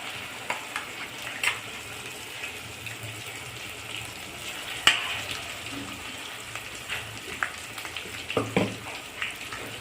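Masala paste for misal sizzling and frying in oil in a pan at home, a steady soft crackle with a few louder spits and stirring scrapes, moderately near and with no talk over it.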